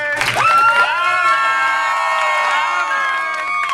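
A crowd at a rally against pipelines on Indigenous lands cheers and shouts loudly and steadily, with whoops and high voices rising over sustained roaring, some clapping mixed in throughout.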